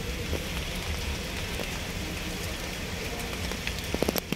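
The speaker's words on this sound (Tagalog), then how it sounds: "Ayan, umulan. Kaya nga nagpayong ako eh." Steady rain falling outdoors in the afternoon, a dense even hiss with scattered drop patters and a few sharper taps near the end, with no talking.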